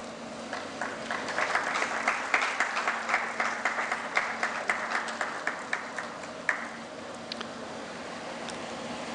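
Audience applauding a bouquet presentation at a medical expo in Goa, rhythmic clapping that swells, stays even for several seconds and then thins out to a few last claps.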